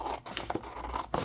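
Scissors cutting freehand around a small paper hummingbird shape, a few close, crisp snips and rustling paper scrapes in quick succession.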